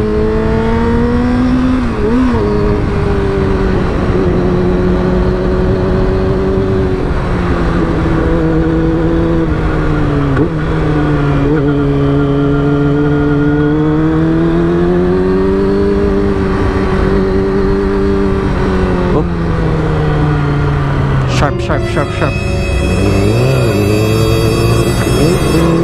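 A motorcycle engine drones steadily while riding downhill on a slippery road near the Madlum River in San Miguel, Bulacan, its pitch rising and falling with throttle through curves, close and continuous with wind noise.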